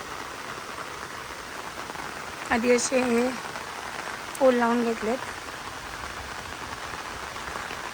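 Steady rain hisses continuously, with a person speaking briefly twice over the constant downpour.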